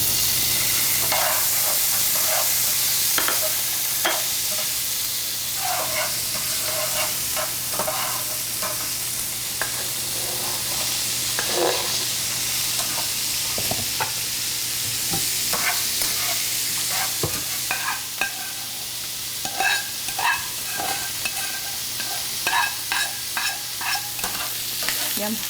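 Mushrooms fry in a pan with a continuous loud hiss of sizzling oil, broken by frequent clicks and scrapes of a utensil stirring, with no voices.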